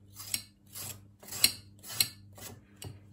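Knife slicing carrot into fine strips on a board, about six soft rasping cuts in a steady rhythm, close and fairly quiet, with no talking.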